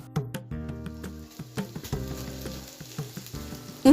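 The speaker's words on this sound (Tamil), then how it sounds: "நல்லா ஃப்ரை ஆன உடனேயே அதில் முளைக்கட்டின பயிறு சேர்க்குறேன்" Samai upma frying in a pan with sprouted lentils stirred in, a soft sizzle under scattered clicks and scrapes from stirring, fairly quiet and close, with one louder knock at the end.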